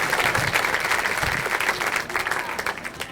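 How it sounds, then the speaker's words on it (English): A comedy club audience claps and cheers steadily for a professional stand-up comedian, a dense continuous wash of applause throughout. "give him a round of applause."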